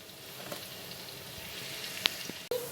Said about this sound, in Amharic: ከዛን እንጠብሰዋለን።